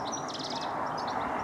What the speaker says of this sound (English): there's a cacophony of birdsong around me. Chiff-chaffs, blackbirds, goldfinches, magnificent.